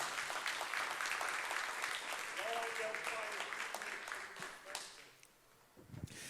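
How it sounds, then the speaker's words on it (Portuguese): A church congregation applauding during a sermon, a dense wash of clapping that carries on for several seconds and fades out, with a voice briefly heard over it. "Aplauda o nome do Senhor Jesus."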